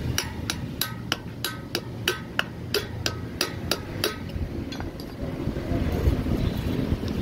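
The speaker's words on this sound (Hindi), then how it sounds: "फ्लैट पेचकस की मदद से आपने बुश को यहाँ से और पंच करना है" Sharp metal strikes from a flat screwdriver punching the drum bush of a Honda CG125 motorcycle, about a dozen evenly spaced taps over the first four seconds, then a few scattered knocks over a low background rumble.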